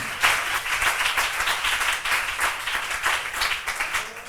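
A church congregation claps and cheers steadily in praise during a worship service, a dense crowd of applause sustained throughout at a fairly loud level.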